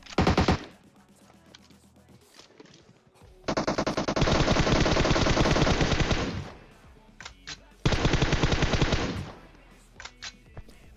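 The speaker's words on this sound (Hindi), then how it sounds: "दूर पे स्नाइपर चला रहा हूं।" Sniper and automatic gunfire in the mobile battle-royale game PUBG Mobile, with loud, dense bursts of rapid shots in two long volleys separated by sharper single cracks and quieter gaps.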